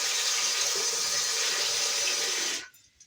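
Water pours and gushes as soaked rice is drained through a strainer for rice pudding, a loud, close, steady splashing flow that cuts off abruptly near the end.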